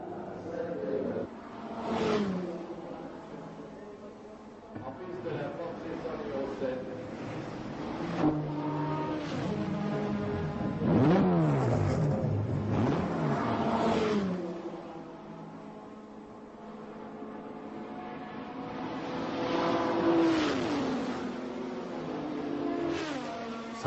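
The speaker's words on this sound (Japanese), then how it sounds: "ポルシェ956ターボの変態走行" A Porsche 956 turbo race car is driven at the Le Mans 24 Hours. Its engine note rises and falls through repeated accelerations and passes, moderately loud and shifting in pitch across the run.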